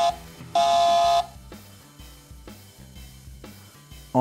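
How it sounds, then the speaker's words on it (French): Car horn effect from a sound module in a Corvette Stingray scale model car: one loud, steady honk of about half a second, standing alone over quiet background. "En 6, c'est klaxon."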